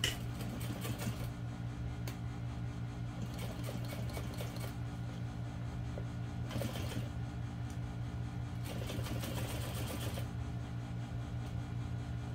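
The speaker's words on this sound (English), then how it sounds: "we're going to sew this seam with a 1/2 inch seam allowance" A sewing machine stitches a half-inch seam through webbing on a small vinyl and waterproof canvas parachute knapsack, short rattling bursts of stitching repeating over a constant motor hum, close and fairly loud.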